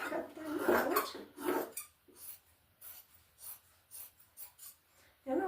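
Scissors snip through fabric for pincushions in short crisp bursts, a louder cluster at first and then quieter intermittent cuts, close up with no talk.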